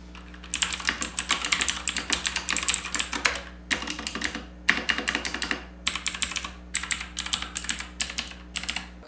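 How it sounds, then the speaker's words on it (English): An Abkoncore K660 Arc mechanical gaming keyboard is typed on in quick, steady bursts of crisp key clacks, close and loud, with short pauses between runs over a faint low hum. "So here's a little typing test for you to gauge what this keyboard actually sounds like and how loud it actually is."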